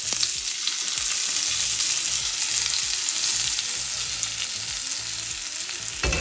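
Tadka seasoning in hot oil sizzling over coconut chutney for masala dosa, a loud continuous crackling hiss up close with small spattering pops throughout, no talking.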